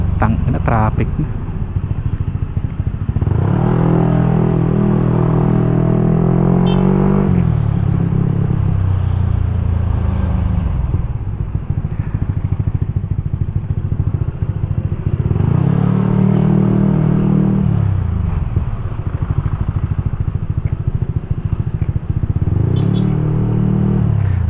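A Honda PCX160 motorcycle riding through hot city traffic: a loud, steady engine drone with wind buffeting and rumble, rising and falling in repeated acceleration surges, while a rider talks.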